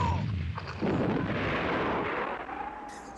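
Cannons fire in the 1985 North Korean monster film Pulgasari, a loud, booming artillery blast with a sustained rumbling roar and echo that fills the whole moment.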